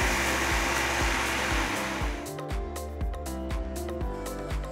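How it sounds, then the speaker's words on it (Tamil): A mixer grinder whirs steadily as soaked rice and water are ground into smooth batter. The motor hum is loud, close and continuous, with a regular pulsing churn and no speech. "கொஞ்சம் தண்ணி ஊத்தி நல்ல ஸ்மூத்தான மாவா அரைச்சி எடுத்துக்கலாம்."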